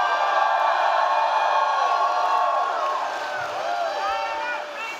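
A large convention crowd at a state Democratic Party gathering cheers and whoops loudly and steadily, with scattered voices rising above the roar before it slowly eases.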